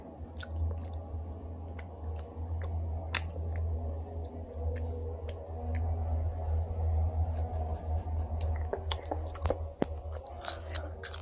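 Someone chews an orange-flavoured Haribo gummy bear up close, with soft, sticky chewing under a quiet low hum and scattered small clicks and squishes.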